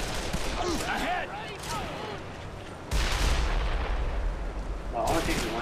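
Gunfire in the Call of Juarez: The Cartel video game, bursts of shots and booms over a busy layer of game sound effects, dense and loud throughout with a heavier blast near the middle.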